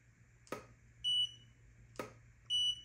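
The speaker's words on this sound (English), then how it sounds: "It takes a long time to go beep." Two short, high electronic beeps from a Flashpoint eVOLV 200 Pro flash recycling, each following a soft click, evenly spaced in an otherwise quiet room.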